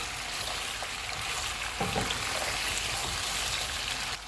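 Beef sizzling in a pan with ginger garlic paste for Achari Gosht, giving a steady close frying hiss with a few soft stirring knocks and no talk.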